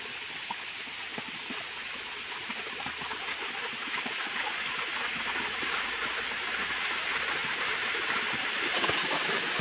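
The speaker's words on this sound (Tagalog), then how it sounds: "Ayun po yung waterfall sa itaas." A waterfall rushes in a steady broadband roar, moderately distant and constant, with no voices over it.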